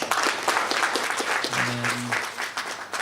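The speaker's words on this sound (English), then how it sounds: "Can you please give him a round of applause?" Audience applause at a supply chain and procurement conference, a moderate burst of clapping that continues throughout, with a brief tonal hum or voice partway through under the clapping.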